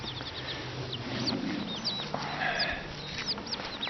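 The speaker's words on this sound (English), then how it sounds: "The big boys are harassing the little rooster again." Chickens on an off-grid homestead, roosters and young birds together, clucking and squawking in short chirpy calls over a constant low background, moderately near and continuous.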